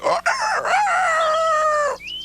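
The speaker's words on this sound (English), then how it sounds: "It's a cockerel who ran off." A cockerel lets out one long, loud, close cock-a-doodle-doo crow that rises and then holds steady before ending, heard on its own without speech.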